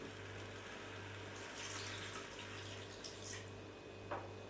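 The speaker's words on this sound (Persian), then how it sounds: "و یک مقدار آب هم درش میندازیم" Water pours steadily into a cooking pot of meat and onions, a faint continuous splashing trickle under a low steady hum, with a small drip near the end.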